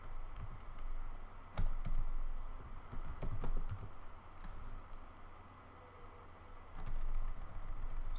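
Keys clatter on a computer keyboard as an Ansible playbook command is typed into a terminal, steady close clicking in uneven bursts over a low background hum.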